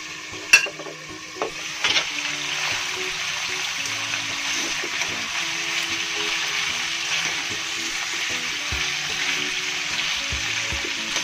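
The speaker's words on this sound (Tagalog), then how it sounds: "Ipiprito lang natin siya guys ng konti lang hanggang sa maging golden brown siya." Beef frying in a pan until golden brown, a steady close sizzle that runs throughout, with a few sharp clinks and scrapes of stirring near the start.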